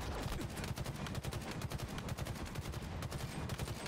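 Rapid automatic gunfire from Halo Infinite rattles in a dense, unbroken burst of fast shots, loud and close, with no talking over it.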